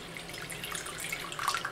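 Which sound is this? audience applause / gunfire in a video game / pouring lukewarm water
pouring lukewarm water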